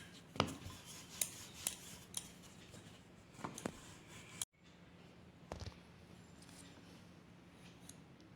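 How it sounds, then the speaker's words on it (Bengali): Small sharp clicks and scraping taps of a knife and rolling pin working rolled dough for Mung-Madhuri pithe on a board, quiet and close, scattered irregularly with a brief cut-off partway through. "এইভাবে সব লেচিগুলোকে বেলে কেটে নেব"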